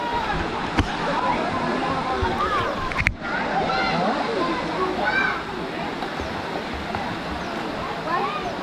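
Water flows steadily at a pond on a hill-country outing near Sakleshpura, a continuous rushing wash with a few splashes, fairly close and under people talking.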